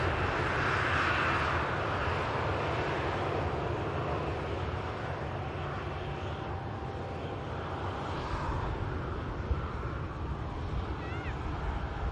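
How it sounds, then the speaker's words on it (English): A Jet2 Boeing 737 taxis past at Manchester Airport, its engines a steady, broad roar holding level throughout, fairly near, with faint background noise and no clear talk. "There's the most recent Jet2 7-3 arrival taxis by us here."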